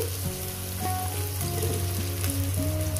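Chopped onions fry in a pan with salt, giving a continuous close sizzle with faint steady tones running beneath it.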